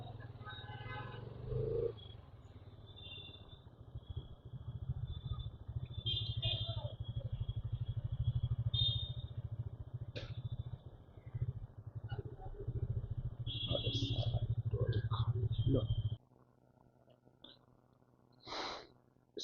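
A Kolkata bike-taxi motorcycle engine runs with a steady low rumble for about sixteen seconds, then cuts out, leaving a quieter stretch with faint scattered sounds and brief voices.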